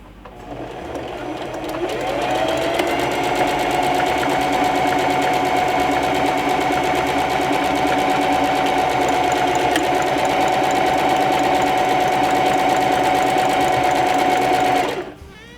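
A Singer Heavy Duty sewing machine stitches an automatic buttonhole with a loud, steady, rapid mechanical whir that ramps up, holds evenly for over ten seconds, then stops abruptly.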